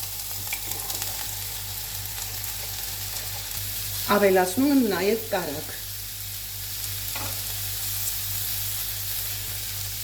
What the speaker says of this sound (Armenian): և ուժեղ կրակով շարունակում եմ տապակել